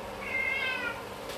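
A cat gives a single drawn-out meow, fairly faint and close, rising then falling in pitch over about a second against a quiet indoor background.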